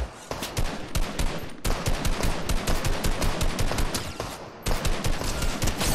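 Rapid automatic gunfire in a Fortnite match, loud and dense, with bursts of shots rattling almost continuously and two brief pauses, no talking.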